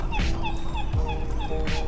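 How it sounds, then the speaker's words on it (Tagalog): A bird, sounding like a turkey or other fowl, gives repeated rapid gobbling calls that resemble laughter, loud and close with a steady babbling rhythm throughout. "Pinatawanan ako ng ibon ba?"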